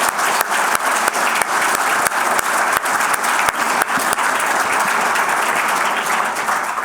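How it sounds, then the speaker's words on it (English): Conference audience applauding student panelists, a loud, sustained crowd clapping with a few sharp, nearer individual claps standing out above the steady roar, no speech. "our students today deserve a massive round of applause for coming up here."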